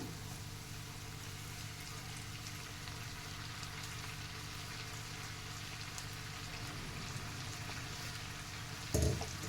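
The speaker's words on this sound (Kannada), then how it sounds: "ಇವಾಗ ತೊಳೆದಿಟ್ಟಿರೋಂತಹ ಸೊಪ್ಪನ್ನು ಹಾಕೊಂಬಿಡೋಣ" Washed drumstick leaves dropped into hot oil with frying onions and green chillies, giving a steady, even sizzle and crackle throughout, with a brief clatter near the end.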